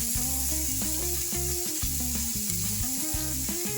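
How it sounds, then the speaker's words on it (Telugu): Spinach and onion curry fries in a pan with a loud, steady sizzle lasting throughout, and a tonal melodic layer underneath that sounds like background music. "కొద్దిగా వేయించు, ఒక 2 నిమిషాలు."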